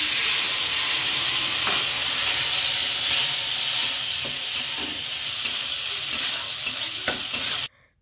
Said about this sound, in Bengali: এবার অল্প পরিমাণ জল দিয়ে মশলাটিকে কষিয়ে নেব